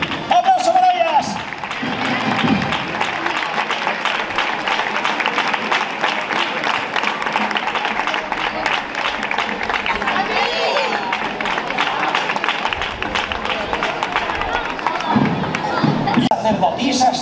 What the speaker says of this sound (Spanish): ¡Aplauso para ellas!